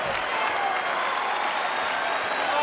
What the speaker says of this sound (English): and I want everybody to applaud Chael.